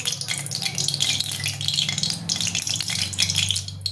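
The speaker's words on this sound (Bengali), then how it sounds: "এবার এটা আমি ভেজে নেব" Marinated eggs being eased into hot white oil in a kadai, giving a continuous bubbling sizzle with light utensil rattles, close and fairly loud, with no talking.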